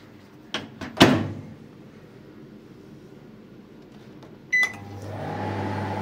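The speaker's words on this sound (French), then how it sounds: "j'allume le micro-ondes" A microwave oven heating vinegar: a couple of door clunks and a latch, a quiet pause, then a beep as it starts and a steady low hum running to the end.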